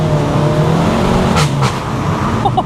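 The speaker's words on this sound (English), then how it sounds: "the pops are really loud" A SEAT Leon Cupra 300 engine drones steadily, then two sharp exhaust pops crack out in quick succession on gear changes as the revs shift.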